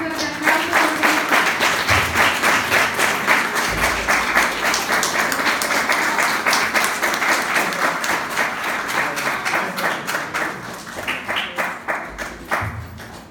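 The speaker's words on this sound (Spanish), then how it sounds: "Y un fuerte aplauso." Crowd at a municipal awards ceremony in Cozahutlán de Carvajal breaks into strong, sustained applause, with rhythmic clapping that thins toward the end.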